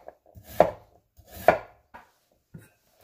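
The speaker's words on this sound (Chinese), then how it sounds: "首先，土豆切片" A knife slicing through potatoes on a cutting board, two distinct firm chops about a second apart followed by a fainter third cut, close and clear in an otherwise quiet room.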